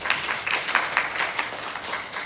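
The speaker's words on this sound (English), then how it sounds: "Let's have a round of applause for him." A short round of applause from a small group at a team meeting, brisk overlapping claps at steady moderate loudness with no talking.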